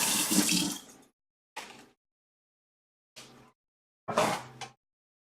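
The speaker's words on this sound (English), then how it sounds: "let me wash this tablespoon out real quick" Short bursts of running tap water splash over a tablespoon being rinsed in a kitchen while cooking a Dutch apple pie, four separate gushes with silent gaps between them.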